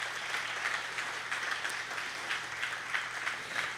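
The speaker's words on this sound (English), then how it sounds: "give Gary a round of applause" Round of applause at a Brady/McCulloch County Chamber of Commerce awards banquet, a dense steady wash of many hands clapping in a room, moderately quiet and continuous with slight swells, no voices over it.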